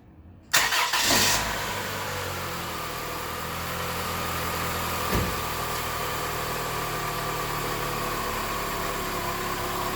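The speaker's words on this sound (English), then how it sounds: "Let's start the engine and see how it react." A 2001-06 Chrysler Sebring engine cranks and catches after a short quiet lead-in, then settles into a steady, close idle that hums on alone for several seconds, with one brief bump partway through.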